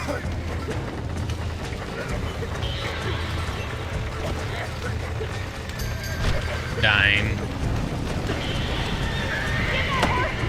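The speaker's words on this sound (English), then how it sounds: "Now get the horses out!" Horses in the video game Red Dead Redemption whinny and neigh over galloping clip-clop hoofbeats, with a busy game soundscape and a voice speaking briefly.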